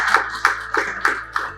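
An audience applauds at a Chamber of Commerce and university partnership anniversary celebration, with five rhythmic bursts of clapping over a steady low hum from the room's sound system.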